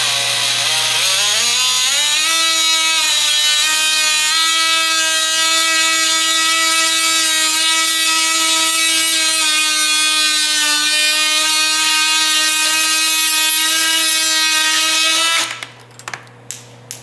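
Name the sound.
power tool cutting plastic on motorcycle twist throttle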